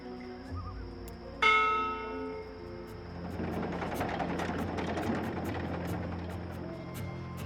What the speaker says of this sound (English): this is a ship's bell. They use this to signal the crew when a load of cargo's ready to be hoisted up